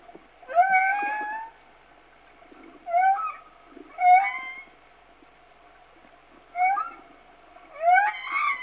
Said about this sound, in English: a male humpback whale, termed a singer, because he's still laying there in the water, nose down, and he's singing